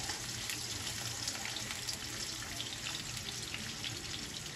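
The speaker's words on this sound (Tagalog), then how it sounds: "bigla pong nagtalsikan itong aking langis, mantika" Cooking oil spatters and crackles in a hot pan while beef sinigang is being made, giving a steady, dense sizzling hiss with scattered pops that runs unbroken throughout.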